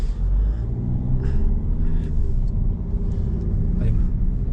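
A Peugeot 3008 GT Line driving along after braking, with a steady low engine and road rumble throughout, close and fairly loud inside the cabin.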